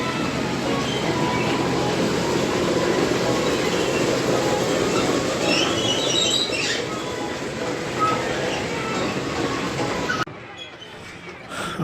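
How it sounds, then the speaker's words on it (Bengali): A toy train at Nicco Park, an amusement park, rumbles steadily on its track for about ten seconds, with faint squeals and clatter, then drops off abruptly near the end. "আমরা এখন টয় ট্রেনে উঠে পড়েছি"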